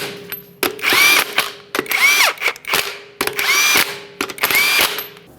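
A power tool spins and rattles the lug nuts snug on an Acura MDX wheel in four loud, close whirring bursts, each ending in a brief hammering chatter, with short pauses between them.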